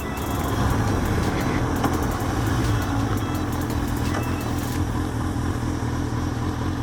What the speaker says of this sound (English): Oh man, that's a lot of traffic.